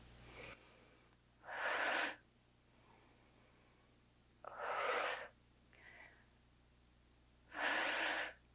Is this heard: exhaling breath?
yes